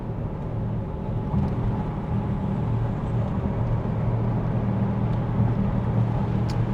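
Steady low rumble and drone from a trailer towed behind a Range Rover Sport L494 on a dusty road, continuous and fairly loud with no talking.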